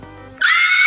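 A woman lets out a loud, piercing, high-pitched shriek that holds steady for over half a second, cutting in abruptly after a brief low voice.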